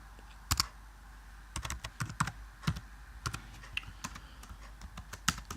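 Computer keyboard clattering as C++ code is typed in Xcode, irregular clusters of close keystrokes with short pauses, no voice.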